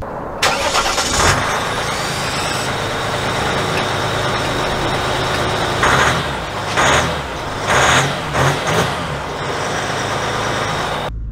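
Ram truck with an EcoDiesel engine pulls away and accelerates, a loud steady engine drone heard from inside the cab with a few rising surges as it gains speed.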